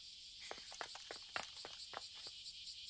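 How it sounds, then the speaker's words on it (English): Crickets or grasshoppers chirp in a constant high, pulsing drone at night, faint and steady, while soft footsteps crunch irregularly underneath. "And yet we hear these fucking like crickets."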